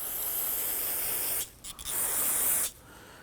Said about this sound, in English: Good to use some spray solvent.